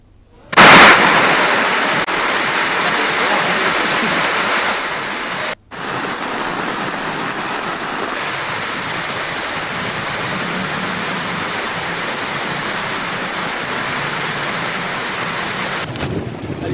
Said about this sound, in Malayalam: ചൂരുമല പുഴ ഏതാണോ കര ഏതാണോ അറിയില്ല. ആ ലെവലിലാണ് ഇപ്പൊ വെള്ളം ഒഴുകുന്നത്.